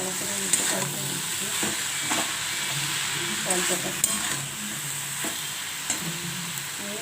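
Frying and stirring in a pan while cooking a Bengali palta leaf dalna with bori: a steady close sizzle with scraping spoon strokes and light clinks against the pan, no talking.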